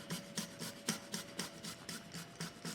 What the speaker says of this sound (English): I'm using my rasp grater for this